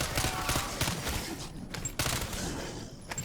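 An LC10 submachine gun firing in a Call of Duty game, with rapid bursts of loud automatic gunfire that pause briefly and then resume, heard without talk.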